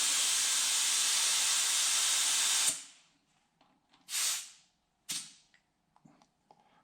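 Air hisses out of the overinflated tire of a 1974 CJ-5, a loud steady rush for nearly three seconds that cuts off, followed by a few shorter sharp bursts.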